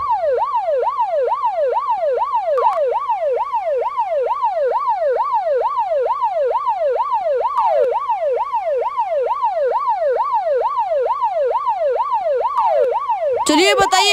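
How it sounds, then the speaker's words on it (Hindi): A loud wailing ambulance siren sweeps up and down in a steady rapid cycle, continuous and close, with a brief burst of a different tone at the very end. "ये एम्बुलेंस आ गई"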